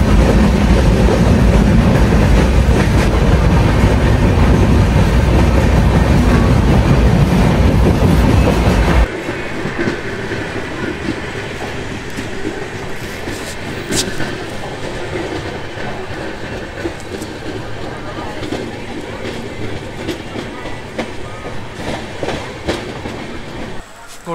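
Onboard the Kandari Express from Howrah to Digha at about 130 km/h, a loud, steady roar of rushing wheels and rattling carriages, easing to a lighter continuous clatter partway through.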